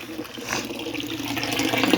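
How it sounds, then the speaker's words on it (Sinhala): Water pours steadily into a fish tank, a continuous close splashing and gurgling fill that grows slightly louder toward the end. "දැන් වතුර පිරෙන්න දාලා තින්නේ"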